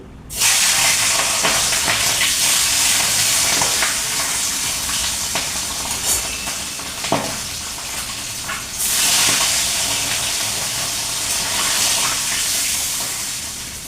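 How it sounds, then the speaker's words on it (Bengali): Katla fish pieces frying in hot oil give a loud, steady hiss and sizzle that runs throughout, with a few brief sharper crackles and spits and a slight swell partway through. "তেলটা হয়ে গেছে, আমি মাছগুলো ভেজে নিই"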